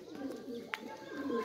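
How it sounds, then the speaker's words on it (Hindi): Pigeons just let out of their coop cooing softly, a low murmuring coo with a single sharp chirp midway, faint and close. "माशाल्लाह देखो जी कैसे कबूतर बाहर निकले"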